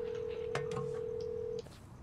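A continuous synthetic telephone tone from the video game Hello Neighbor sounds for about a second and a half before stopping, with brief clicks and blips layered over it.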